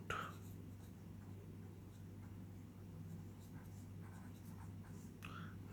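A pen scratches across paper at close range, quiet and steady over a low background hum.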